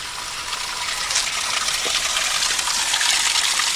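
Water runs steadily from an old stone CCC drinking fountain built in the 1930s at a Pennsylvania camp site outdoors, a close, continuous gushing splash that grows slightly louder, with no voices.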